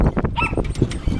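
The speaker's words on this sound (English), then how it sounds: "that's my dog Maggie." Dog barking in short repeated yips and barks close by outdoors, several quick bursts with whimpering in between.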